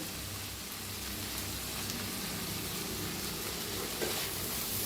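Bun bhaji mixture with coriander sizzles in a hot pan, a steady close crackle of frying that runs the whole time. No one speaks over it.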